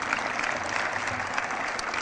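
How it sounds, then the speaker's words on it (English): A crowd at a student character-education event claps steadily, a dense even wash of applause with no talk over it. "So a quick round of applause for the Judicial Board"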